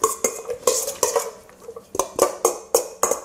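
A metal spoon clinks and scrapes against a pot as it scoops boiling water, in a quick, uneven series of sharp taps and stirs, close and clear with no talking.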